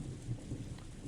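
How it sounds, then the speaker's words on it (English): Steady rain with a low rumble of thunder fills the scene in the Umineko visual novel game. The storm is a constant, even wash of sound with no voices. "The merciless rain beat down on him"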